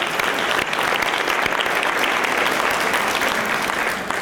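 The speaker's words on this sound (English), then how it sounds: "If you would have one more round of applause for them." Steady round of applause from a seated audience at a 2019 small-business luncheon event, a dense, even wash of many hands clapping for over four seconds without pause.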